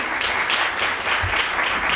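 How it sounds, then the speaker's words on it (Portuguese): Applause from an audience at a panel discussion on authority, feminism and gender ideology, steady clapping from many hands throughout, loud and close. "Uma salva de palmas também para ele."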